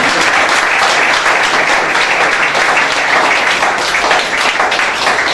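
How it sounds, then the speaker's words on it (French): A church congregation claps and applauds after a testimony of deliverance, producing a loud, dense and sustained burst of clapping that runs steadily from start to finish. "is it not something to clap for"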